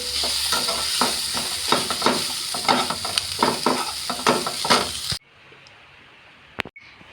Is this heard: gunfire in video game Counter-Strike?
no